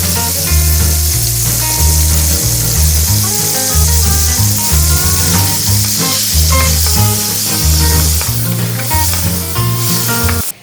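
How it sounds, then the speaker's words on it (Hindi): Marinated chicken for shawarma frying in about two tablespoons of oil in a pan, a steady sizzle running throughout, partly masked by loud rhythmic background music with a pulsing bass line. "अब हम इसमें जो मैरिनेट किया हुआ चिकन था वो शामिल करते हैं"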